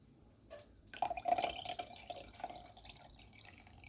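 Juice pours into a dish while a whole-food, plant-based, oil-free veggie lasagna is being made, a soft trickling and dripping splash that swells for about a second and then tapers into quiet drips, close by and faint, with no talking.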